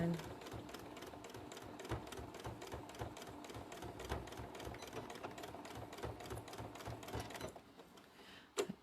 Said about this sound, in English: Just go back, forward and back stitches, and feed it up.